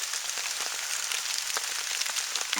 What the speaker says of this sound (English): I'm hoping it stops raining long enough for me to set up